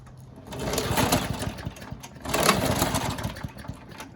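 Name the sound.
Briggs EX small engine starting and running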